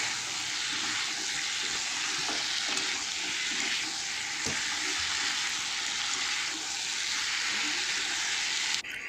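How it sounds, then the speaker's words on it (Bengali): Taro pieces sauté with spice paste in a pan, giving a dense, continuous sizzle and hiss, with faint scraping and a few knocks as the mixture is worked, close and steady throughout. "আলাদা করে মশলার সঙ্গে এটাকে সুন্দর করে কষিয়ে নেব"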